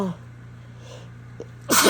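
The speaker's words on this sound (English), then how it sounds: "I'm gonna sneeze." A single loud, sharp sneeze bursts out near the end after a brief catch of breath, close and forceful against a quiet room.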